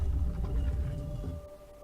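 A low, droning, whale-like moan with a steady hum, the fish god sound from the video game Riven, plays at moderate volume and fades out after about a second and a half, with no voices.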